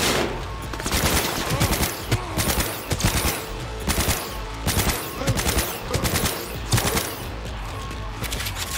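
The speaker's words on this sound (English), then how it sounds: "it's time to use the smart weapon" Smart weapon gunfire in the Cyberpunk 2077 video game: rapid, loud bursts of automatic shots repeating in rhythmic volleys, near and continuous, with faint game sound beneath.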